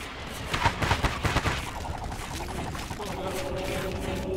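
Fireworks unit in Totally Accurate Battle Simulator launching a rapid string of crackling pops and bursts, loud and clustered early, then trailing into a continuous fizzing rumble with faint whistling tones.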